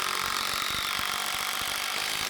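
A ratchet drives a lag screw down through decking into a surface-mounted post for a backyard screen porch, a fast steady clicking over a dense mechanical whir, loud and close, stopping abruptly.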